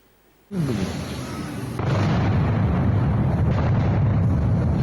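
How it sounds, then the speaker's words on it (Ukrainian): A sudden loud blast from a strike on central Dnipro erupts out of near silence, then a sustained roaring rumble continues with heavy wind-like noise buffeting the microphone. "Гучний вибух, а за ним спалахує пожежа."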